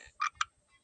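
A frog makes two short, sharp croaks in quick succession, close by against a quiet background.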